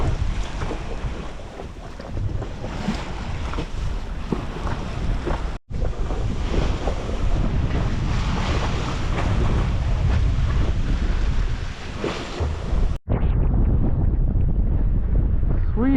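Sailboat heeling along the ocean off the west coast of Baranof Island, Alaska, under strong wind: steady roaring wind buffeting the microphone with rushing waves and water washing past the hull, loud and continuous, briefly cutting out twice.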